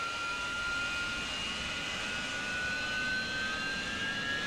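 A Harrier jet engine spools up in a flight simulator game, a continuous loud turbine roar with a high whine that climbs slightly in pitch over a few seconds.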